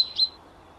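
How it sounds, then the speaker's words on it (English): Short bright bird chirp in the video game Sally Face, a quick high tweet that rises and fades over a faint low background hum, with no talking. "Hey, a bird!"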